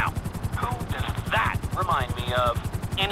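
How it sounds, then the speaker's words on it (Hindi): Helicopter rotor in the video game GTA V, a steady low rhythmic chop throughout, with a voice talking over it. "देखो कैसा हेलीकॉप्टर उड़ाता हूँ मैं"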